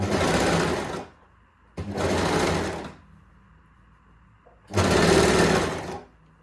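A sewing machine stitches elastic onto the leg hole of fabric shorts in three loud, close bursts of rapid needle chatter separated by short quiet pauses.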